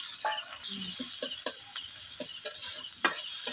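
Steady sizzling of chopped onion, green chili and garlic frying in hot oil, with intermittent clinks and stirring sounds, close and moderately loud, no talking.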